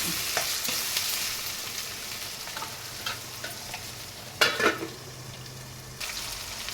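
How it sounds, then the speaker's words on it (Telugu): Drumstick pieces fry in a pan with a low continuous sizzle, punctuated by a few louder spatula scrapes and stirring clatters close by; no one speaks. "కట్ చేసి పెట్టుకున్న మునక్కాయలను వేయాలి. వేసి ఒక 2 నిమిషాలు వేగనివ్వాలి"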